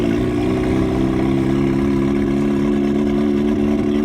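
A turbocharged Mazda Miata engine revs hard and loud, the exhaust note stuttering and breaking up into a rough, uneven drone.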